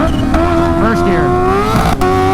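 A stretched Kawasaki Ninja H2 motorcycle accelerates hard in first gear, its engine note loud and close and climbing steadily in pitch, with a voice briefly heard over it.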